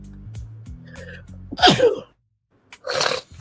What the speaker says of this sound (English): let me make sure all my sneezes are out